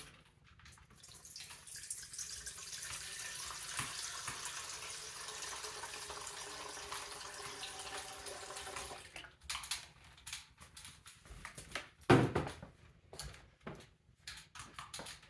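Water for sourdough pouring from a tap into a bowl on a kitchen scale, a continuous hiss and splash that holds for about nine seconds, then stops, followed by a few clunks and faint handling noises.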